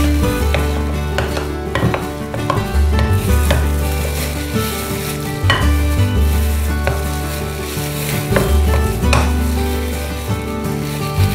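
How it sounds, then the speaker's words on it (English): Butter and peanut butter being mixed together for peanut butter balls, a thick, loud, close stirring with repeated scrapes and knocks of a utensil against the bowl in an uneven rhythm, with no voices. "I'm gonna mix butter and peanut butter together first"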